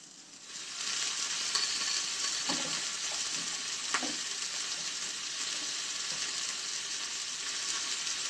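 Vegetables hit a pan of cooking pork, and a steady broadband sizzle of frying follows with occasional stirring clatters, close and continuous after a brief quieter start.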